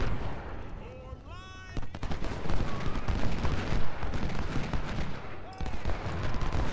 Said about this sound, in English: get shots into Hood, make him pay for that charge